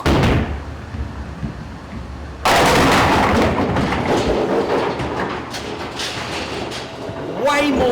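A bowling ball slams into the pins with a loud, sudden crash partway through, then a rattling rumble of scattering pins continues. A voice briefly rises near the end.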